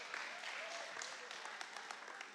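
Soft, distant applause from a small group at a mindfulness class, with a faint, continuous patter of claps and scattered sharper hand hits underneath.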